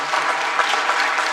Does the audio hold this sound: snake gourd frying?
no